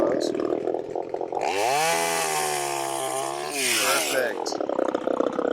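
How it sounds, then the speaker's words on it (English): A chainsaw roars steadily while cutting up storm-damaged tree wood, its engine pitch dipping and rising under load for several seconds, with voices talking faintly around it. "A little bit of chainsaw practice for Otis."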